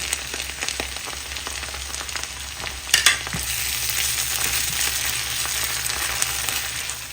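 Garlic paste and ginger paste fry in a hot pan, a dense, steady crackling sizzle close up with a brief sharper spatter burst near the middle and no talking.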